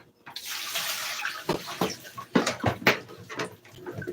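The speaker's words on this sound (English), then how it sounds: "I'm gonna have some cold water running it over" Cold tap water running over shrimp being rinsed for the third time after a vinegar-water soak, a steady broadband splash with louder sloshing bursts as the shrimp are turned under the stream, close by.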